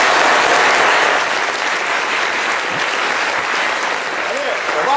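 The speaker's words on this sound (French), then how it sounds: "que je vais vous demander d'applaudir encore une fois" An audience applauds a young writer, winner of the Bernard Dadié National Prize, on a studio talk show set; dense, steady clapping fills the whole stretch at a constant loud level.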